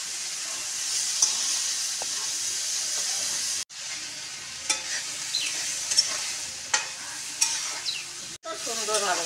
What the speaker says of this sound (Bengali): ডুমুরটা দিয়ে আমি এবার ভালো করে কষবো